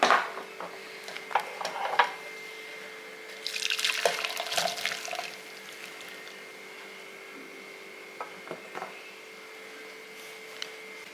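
Hot water drains off half-boiled potatoes, splashing and pouring in two short bursts that give way to scattered drips and small clinks in a quiet kitchen.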